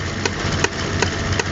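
Ford Focus engine under full throttle while misfiring and failing to climb in revs, a steady rough drone with faint periodic pulses roughly every 0.4 seconds, close and alone without voices.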